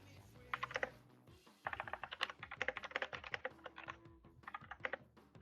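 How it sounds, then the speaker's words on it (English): Rapid, uneven clatter of fingers typing on a computer keyboard, close and fairly quiet, in bursts with a brief pause early on and a faint low hum underneath. "I hear you typing."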